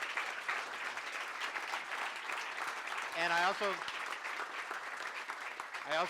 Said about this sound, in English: this esteemed group of mayors deserve a round of applause